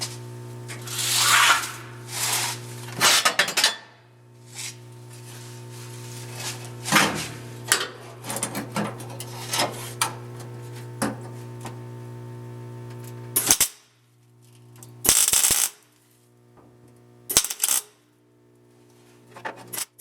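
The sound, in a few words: welding floor piece of 1972 Triumph GT6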